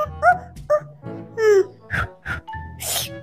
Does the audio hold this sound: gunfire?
no